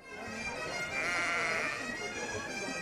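A flock of sheep on the move during a summer transhumance in Sizun, with continuous overlapping bleats from many animals near and far, forming a steady dense chorus over the whole stretch.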